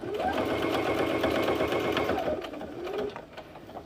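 A sewing machine runs steadily stitching the seam of a boxy bag, a continuous close mechanical whir that eases slightly toward the end, with no talking.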